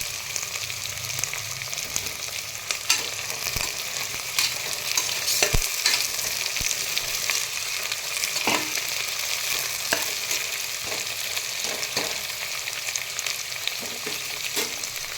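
Vegetables for pulao fry in a hot pan with salt added, a steady sizzle broken by repeated scrapes and knocks of a spoon stirring, close and continuous with no talking.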